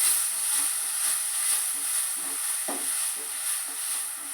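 Ponnankanni greens thoran is stirred in a hot pan, with a steady soft sizzle and light repeated scraping strokes of the spoon throughout.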